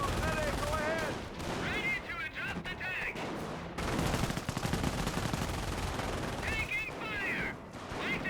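Gunfire crackles through a Company of Heroes 1 battle between infantry and a half-track, dense bursts continuing under a commentator's steady talk.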